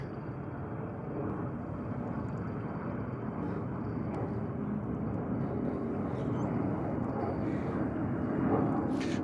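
A Delta airliner arriving from London Gatwick at JFK airport: a steady, broad jet engine roar that holds throughout at moderate distance, slightly building toward the end.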